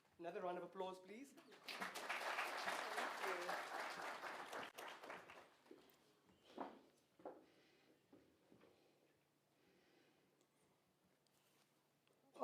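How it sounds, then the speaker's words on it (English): A business forum audience gives another round of applause, a short burst of clapping at moderate level that fades into quiet, with a brief voice before it begins. "Another round of applause, please."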